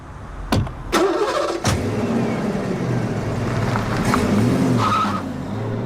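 A car starts up after a few sharp knocks like doors shutting, then its engine revs and pulls away with a brief tyre squeal, staying loud and close throughout a dramatic street scene.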